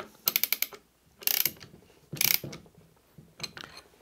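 A flat wrench tightens the collet on a Festool OF 1400 router, giving four separate bursts of close, crisp ratcheting clicks with short pauses between them.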